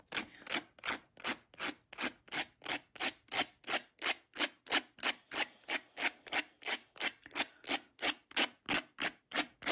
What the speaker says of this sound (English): This is Abranet 80, P80 sanding paper.